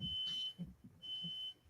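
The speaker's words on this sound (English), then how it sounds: "Someone's got a smoke alarm or something going off." A smoke alarm goes off in the background with two long, steady high-pitched beeps separated by a short gap, faint against low room noise.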